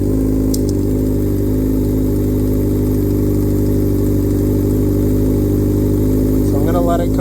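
A Honda CBR600RR motorcycle with a rough idle, its throttle body boots exposed, runs at idle: a steady, loud low-pitched engine drone with a constant pulse throughout, and a brief clink near the end.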